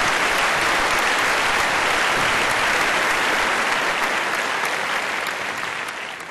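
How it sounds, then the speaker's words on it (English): Audience applause at an award ceremony, the Business Achievers of the North, as a recipient is honoured: dense, steady clapping from a large crowd, loud and sustained throughout, easing slightly at the end. "A big round of applause, ladies and gentlemen."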